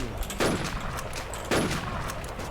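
Two sharp bursts of rapid automatic gunfire in the video game Warz, about a second apart, each a quick crackling volley over a busy background of game noise.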